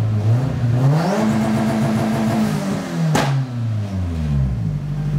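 A car engine tuned with a Cobb AccessPort revs up loudly, holds at high revs, lets out a sharp pop, then drops back down and climbs again.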